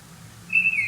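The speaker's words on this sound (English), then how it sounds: "He said that the birds started chirping around midnight." Birds chirping at midnight outside, heard as a single bright, thin whistled call rising out of a quiet low hum in the second half, fairly clear against the background.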